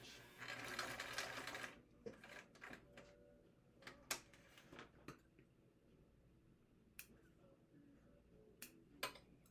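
A sewing machine top stitching a minimalist wallet with a back stitch, a short run of rapid stitching followed by scattered faint clicks and handling taps, quiet and close.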